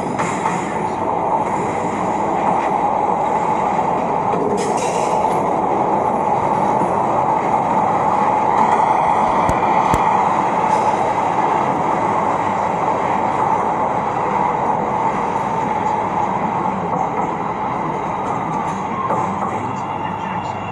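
A train ride rumbles on steadily, a dense continuous roar of wheels on rails with faint clicks and occasional squeals, loud and close throughout with no gaps.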